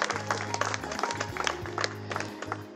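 An audience at a comedy event in Sitapur claps in a steady, moderately distant patter, scattered hand claps continuing for a few seconds over a low background hum.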